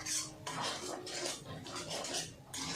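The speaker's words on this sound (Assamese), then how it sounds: "ভালধৰণে মিক্স কৰি দিছোঁ হাতাৰে।" A ladle mixing palak paneer in a metal pot, with repeated close scraping and clinking strokes in an uneven rhythm, fairly quiet with no talking.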